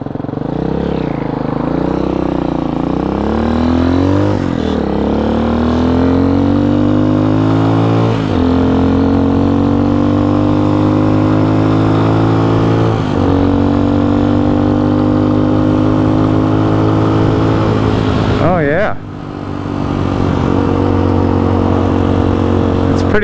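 A Hawk 250 enduro motorcycle engine runs steadily while riding, its loud drone holding constant pitch with a few brief shifts and dips as the rider cruises.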